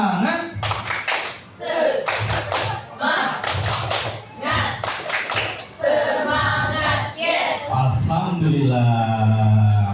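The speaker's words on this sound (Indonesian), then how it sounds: "tepuk semangat dulu dong" A group claps together in a quick rhythmic pattern, the tepuk semangat spirit clap, in repeated bursts during a school training session, with voices chanting along between the claps.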